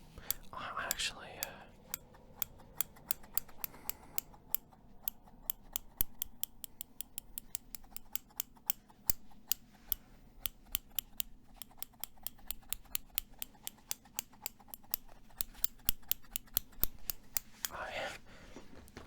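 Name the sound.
scissors being handled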